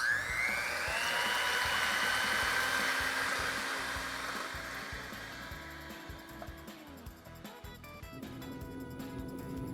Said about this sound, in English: Start whipping our egg whites first.